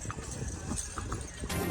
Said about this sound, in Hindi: आप देख सकते हैं घोड़े को चला रहा हूँ